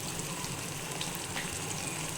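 Onion paste, spices, bay leaf and whole cumin fry in hot oil in a heated kadai, giving a steady, close, even sizzle throughout with no speech.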